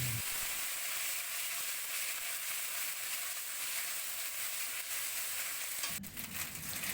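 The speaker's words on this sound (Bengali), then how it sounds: "আদা বাটাটা খুব ভালো করে আমি তেলে একটু ভাজা ভাজা করে নেব।" Ginger paste fries in hot oil in a wok, a steady close sizzling hiss throughout with a brief stirring scrape near the end.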